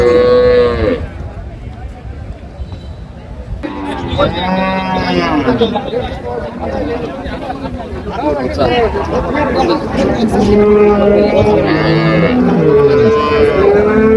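Dairy cows and their calves moo repeatedly at a busy rural cattle market in Dinajpur, the loud, drawn-out calls rising and overlapping amid a steady crowd hubbub.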